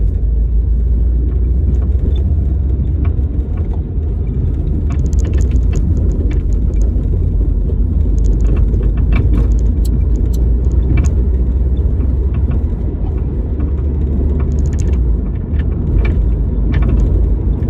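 A car travels slowly and steadily, its low engine rumble and road noise continuous and close throughout, with faint scattered clicks and rattles on top and no talking.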